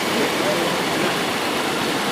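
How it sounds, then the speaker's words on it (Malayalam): The Kaippuzha river, a tributary of the Meenachil, rushes steadily nearby as a dense, continuous broadband roar of flowing water with no breaks. "ഒഴുകുന്നത് മീനച്ചിലാറിൻ്റെ കൈവഴിയായിട്ടുള്ള കൈപ്പുഴയാറാണ്"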